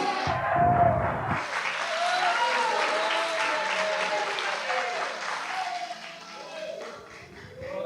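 A church congregation applauds during a sermon, a broad wash of many hands clapping that begins sharply, holds steady, then gradually thins and fades toward the end.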